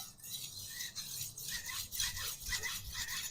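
A knife blade rubs along a sharpener at a slight angle to take off the factory edge, giving a quiet rhythmic rasping of repeated short strokes, close and alone.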